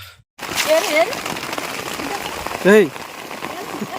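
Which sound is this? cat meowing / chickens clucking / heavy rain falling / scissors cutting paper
heavy rain falling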